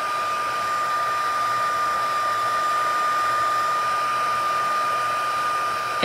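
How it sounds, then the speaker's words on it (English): An electric heat tool blows a steady, loud whir close by while melting embossing powder on a stamped card, an unbroken fan drone and high whine with no voices. "before putting my heat tool aside"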